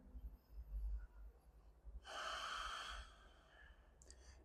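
Slow deep breathing during a gentle morning yoga stretch, a soft drawn-out breath followed by one stronger, airy exhale lasting about a second, close and quiet with no talking.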